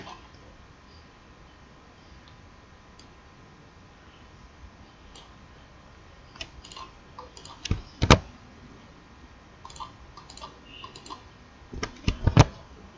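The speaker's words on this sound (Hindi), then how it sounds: "मुझसे कुछ कीबोर्ड में बटन्स दब गए।" Computer keyboard keys pressed during a spreadsheet training session, a few faint scattered clicks early on, then louder clustered taps around the middle and again near the end, with no talking.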